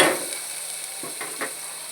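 Green chillies and tomato frying in a pan while cooking ridge gourd palya give a steady, bright sizzling hiss, with a few soft utensil taps near the middle.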